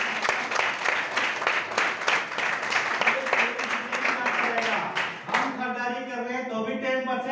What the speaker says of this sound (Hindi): इसके लिए जबरदस्त तालियां होनी चाहिए।